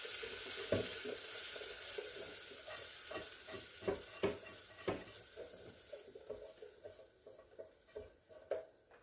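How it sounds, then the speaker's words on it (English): Onions and garlic fry in a pan with a steady sizzle, while a utensil stirs and taps against it in repeated soft knocks, close and moderately quiet with no talking. "I love the smell of onions and garlic cooking together."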